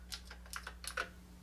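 Typing on a YCCTEAM MG300 mechanical keyboard: a quick, fairly quiet run of about six or seven clicky keystrokes in an uneven rhythm, close by, with no talking.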